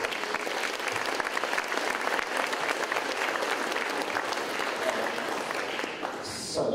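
An audience claps after a presentation with steady, dense applause that lasts nearly seven seconds and tapers off at the end.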